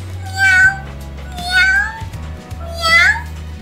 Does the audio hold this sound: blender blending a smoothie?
no